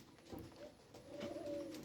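Low, throaty pigeon coos repeat softly nearby at a pigeon house backed by grass and vines, a rolling murmur with a fuller, longer coo near the end, no talking.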